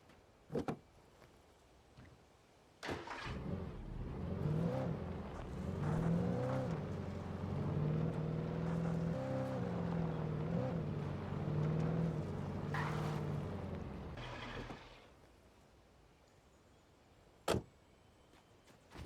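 A car in the game Alan Wake Remastered starts with door clunks, then its engine hums steadily for about ten seconds with slight pitch shifts before cutting off, followed by a sharp door slam.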